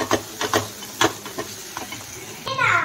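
Tomatoes frying in a pan as a spoon stirs them, producing soft scraping strokes at an uneven rhythm over a faint sizzle, with a louder hiss near the end and a voice talking faintly in the background.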